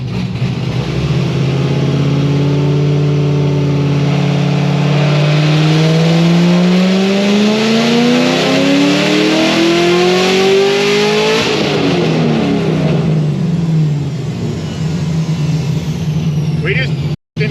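ZR1 engine making a 1000+ hp dyno pull: a loud, close roar that climbs steadily in pitch for about ten seconds, then drops off into a lower, fading drone with whooshing exhaust, without speech.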